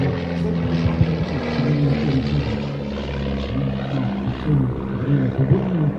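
A British wooden propeller aircraft flies by with a steady, throbbing piston-engine drone and strong low harmonics, holding constant and fairly loud throughout with no voices.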